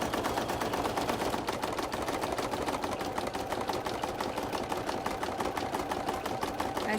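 An embroidery sewing machine stitching a monogram on a backpack, a rapid, steady mechanical clatter of needle strokes, close and continuous with no talk.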